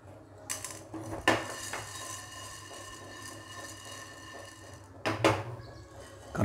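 Roasted chana dal is tipped from a pan onto a plate, with sharp metallic clatters and scrapes at the start and again near the end, a quiet ringing hum between them.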